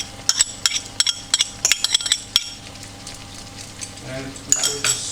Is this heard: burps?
no